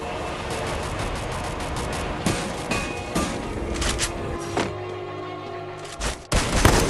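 Rapid gunfire in the Free Fire battle royale game, strings of sharp shots and bursts repeating across the whole stretch with occasional heavier thumps, loud and close.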